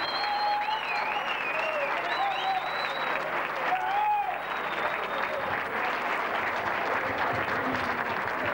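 Event audience at a Pirelli tyre party applauds steadily for a company president, a dense, sustained wash of clapping with cheering voices and a few whistles mixed in throughout.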